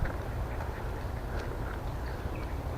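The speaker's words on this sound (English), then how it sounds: "There's been a few birds." Birds, likely ducks, calling outdoors on a chilly day, with scattered faint quacks and calls over steady low background rumble, continuous throughout.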